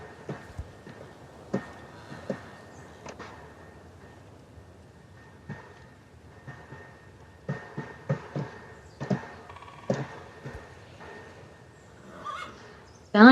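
A horse in the Star Stable video game neighs and whinnies amid scattered hoof clops and short game sound effects, fairly quiet and intermittent, ending in a sudden loud burst.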